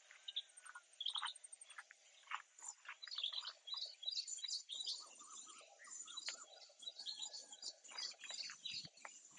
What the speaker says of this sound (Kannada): ಇದು ಮ್ಯೂಸಿಕ್ ಕೇಳಿಸ್ಕೊಳ್ಳಿ, ಬರ್ಡ್ಸ್ ವಾಯ್ಸ್,